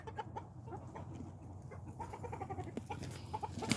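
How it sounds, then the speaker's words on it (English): A young backyard chicken thought to be a rooster makes hen-like clucking noises, a faint, irregular series of soft clucks and murmurs with other farm sounds nearby. "Now that sounds like a hen."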